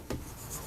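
A short scratch of chalk or marker on a board during a physics lecture, one quick stroke then light faint scraping.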